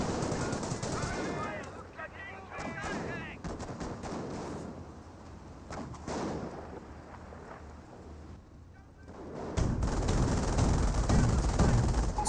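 Rapid machine-gun bursts and rattling gunfire in a Company of Heroes 1 battle, with an armored car under fire. The shooting is dense and continuous and grows louder near the end, under a commentator's voice.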